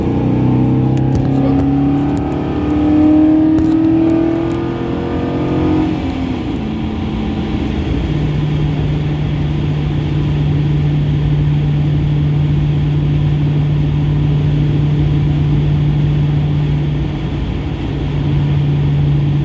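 A truck engine revs up and accelerates at first, its pitch rising, then settles into a steady, loud drone as it cruises on a back road, close to the cabin with no talking.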